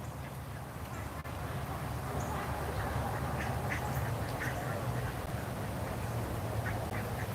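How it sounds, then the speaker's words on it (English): A large flock of ducks quacks constantly nearby in a dense, overlapping chorus over a steady outdoor rumble. Someone talks faintly underneath. "so we got a big duck army here, heading this direction"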